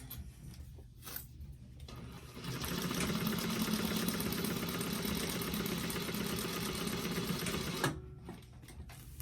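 A sewing machine stitches a bag seam with a quarter-inch allowance, starting with a quieter whir, then running in a loud, continuous close-up burst for about five seconds before stopping.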